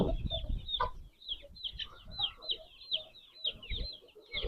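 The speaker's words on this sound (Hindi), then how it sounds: "और बहुत ही अच्छा मुर्गा है।" An Aseel rooster, a 2500-gram winner bird, clucks and calls repeatedly in a farm setting, with a chorus of other chickens chirping steadily around it at close range.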